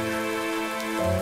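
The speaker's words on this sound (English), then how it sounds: "It's raining!" Rain falling in modded Minecraft, a loud, steady hiss of rain on surfaces with a low ambient hum underneath and no voices.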